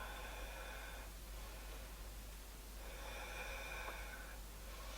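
Heavy, slow breathing during a standing-poses yoga class, two long rasping breaths close to the microphone over a steady background hiss, with no one talking.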